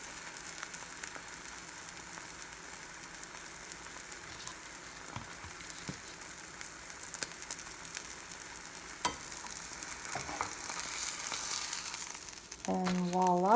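A cheesy omelette fries in a pan with a soft, steady sizzle and occasional crackles and stirring clicks, close and fairly quiet throughout; a brief tonal sound rises near the end.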